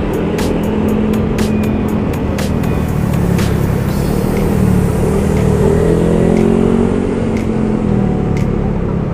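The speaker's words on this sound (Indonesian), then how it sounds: "Ini kendaraan banyak tapi masih terus bergerak ya, baik mobil maupun motor ya" Dense traffic of cars and motorbikes creeps along a busy street near the Fatmawati traffic lights, with a constant roar of engines and scattered sharp clicks and knocks close by.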